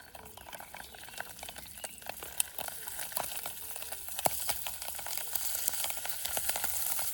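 Garlic sizzles in a frying pan over a camping gas stove in the woods, a steady close crackle and hiss with scattered sharp pops throughout.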